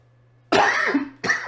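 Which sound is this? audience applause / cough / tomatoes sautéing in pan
cough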